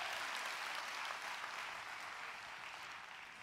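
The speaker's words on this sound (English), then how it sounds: "One good hand clap from anywhere in the building and even watching." Dense applause from a church congregation fills the sanctuary, a broad wash of many hands clapping at once, steady and then tapering slightly toward the end, with no voices over it.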